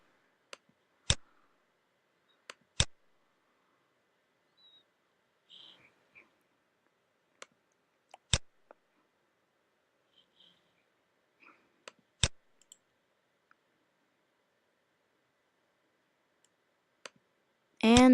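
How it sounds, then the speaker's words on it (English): Computer mouse clicks while working in Xcode, a handful of isolated crisp clicks spaced a few seconds apart in an otherwise quiet room. "Let's click this button now. Click on this button now."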